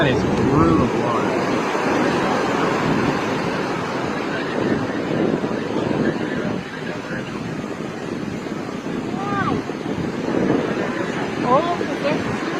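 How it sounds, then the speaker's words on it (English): Rough ocean surf crashes and churns continuously amid wind noise, with people talking over the roar of the water. "Any one of these waves could knock you loose"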